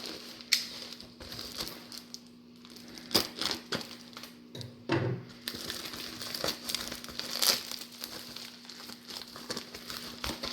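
A mailed package about 18 inches long being opened and unwrapped, with crinkling, crumpling and tearing of packing material in scattered bursts, close and moderately quiet, with no speech.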